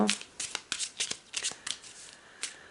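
Tarot cards being shuffled by hand, a quick series of crisp riffling and slapping bursts close to the mic, moderately quiet with no speech over them.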